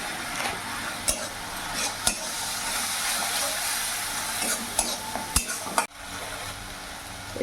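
A spice paste of Kashmiri chilli powder, tomato and a splash of water sizzles steadily in a pan for a silver carp fish curry, with a spoon stirring and scraping and a few sharp clinks against the metal.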